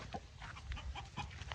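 Chickens at a farm coop with sleeping quarters, water, an egg section and an outdoor run give short clucks and calls, scattered and fairly close over steady low background noise.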